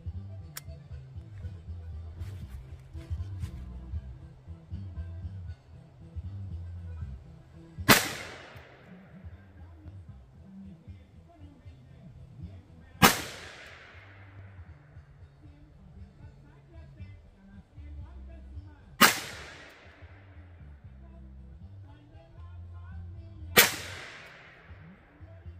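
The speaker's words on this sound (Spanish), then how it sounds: "les voy a enseñar más o menos el disparo, cómo se escucha" Four sharp gunshots fired from a gun ring out at spaced intervals, each a loud crack with a short decaying tail, over quiet background noise and faint murmuring voices.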